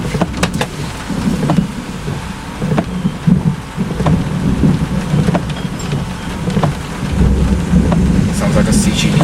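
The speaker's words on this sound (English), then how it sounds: "Sounds like a CG according to the thunder." Thunder rumbles through steady heavy rain in a Florida summer thunderstorm, with repeated low rolling booms and sharp cracks over the constant hiss of rain drumming on surfaces, fairly close and loud throughout.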